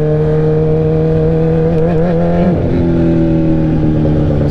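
A sport bike with a straight pipe exhaust drones loud and close in a steady, buzzy roar, its pitch wavering and then dropping slightly partway through as the throttle shifts, with no other sounds over it.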